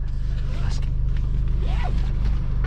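A manual-transmission car's engine idles steadily and loudly close by, a continuous low rumble throughout, while someone talks over it.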